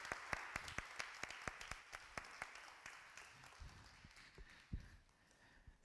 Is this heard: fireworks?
no